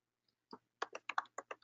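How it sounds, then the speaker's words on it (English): A quick burst of about eight close, crisp keystrokes on a computer keyboard as a search word is typed, with the clicks coming in a fast, uneven rhythm and no voices. "I'm going to type in condo."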